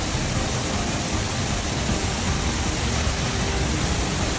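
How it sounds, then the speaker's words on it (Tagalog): The old Casaroro waterfall roars as a dense, unbroken rush of falling water, loud and close, with no talking over it. "Napakaganda ng falls."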